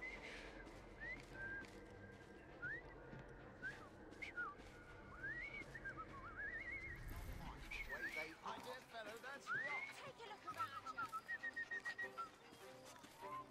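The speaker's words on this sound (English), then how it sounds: "I've just learned to whistle." Whistling in the video game Assassin's Creed Syndicate: a bright, wavering tune of rising and falling notes that comes and goes over busy street ambience with clopping hooves, and voices talking now and then.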